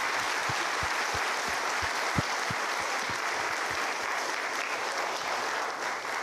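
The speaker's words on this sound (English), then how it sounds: "Another big round of applause to the officers." Steady, dense applause from an audience at a police department promotional ceremony honoring officers, sustained for several seconds at even loudness with occasional sharper claps.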